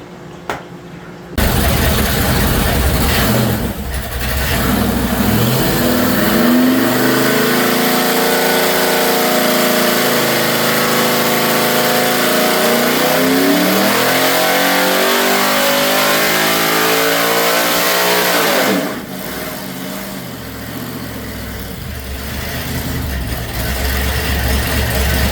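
An LS engine with a tunnel ram revs hard on a dyno, a loud sustained pull that rises and falls over about seventeen seconds before dropping back to idle.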